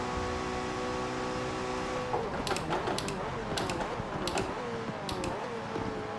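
A McLaren Senna race car in Forza Motorsport 7 holds a steady, loud engine drone while climbing in sixth gear at Monza, with a few sharp clicks and ticks scattered over it.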